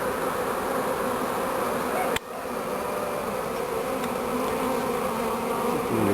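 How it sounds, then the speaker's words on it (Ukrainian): A honeybee swarm hums continuously at close range while it moves into a new hive, giving a dense, steady buzz with a brief knock partway through and no talk. "Ну ось майже вже всі перейшли бджоли."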